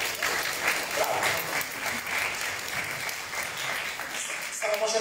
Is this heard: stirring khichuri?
no